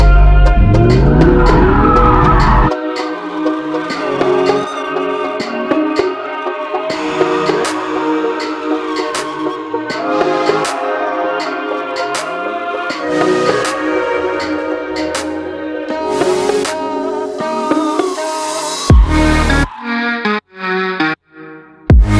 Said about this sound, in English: it convinced me I need to do some donuts over here